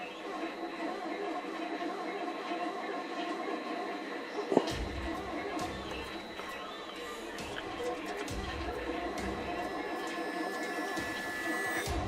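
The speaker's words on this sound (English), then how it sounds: "You can see my printer in the background going." A 3D printer runs steadily in the background of a workshop, a continuous low mechanical hum and whir with faint clicks, heard under close handling noises and a brief sharp knock.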